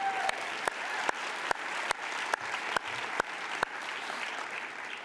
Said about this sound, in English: let's give that a round of applause.